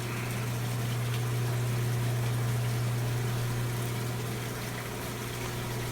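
Water rushes and trickles steadily into a saltwater aquarium overflow under a constant low electric hum from a pump, even and unbroken throughout.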